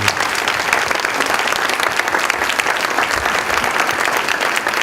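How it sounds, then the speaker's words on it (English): A large audience applauds loudly and steadily for college presidents at a State of Columbus State address, a dense, unbroken wash of clapping lasting the full five seconds. "could you stand up quickly and get a nice round of applause here?"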